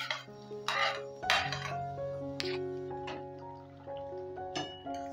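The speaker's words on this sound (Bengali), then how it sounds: "উচ্ছেটা দিয়ে একটুখানি নাড়াচাড়া করে দিচ্ছি।" A utensil stirs fried bitter gourd into cooked motor (split pea) dal in a metal pot, with a few scraping clinks and knocks against the pot over a steady background hum.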